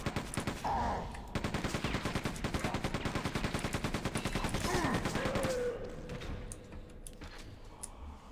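Rapid automatic gunfire in Quake 2, a fast, even burst of repeated shots lasting several seconds, loud and close, then tapering into fainter game sounds.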